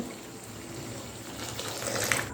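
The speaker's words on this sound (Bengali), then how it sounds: "এর মধ্যে দিয়ে দিচ্ছি আমি গরম জল" Hot water pours into a pot of boiled lentils on a medium gas flame, a soft continuous gushing and splashing that builds slightly louder toward the end.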